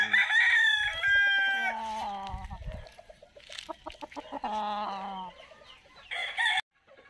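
A Boston Roundhead rooster crows loudly and close, several drawn-out crows in succession with some clucking between them.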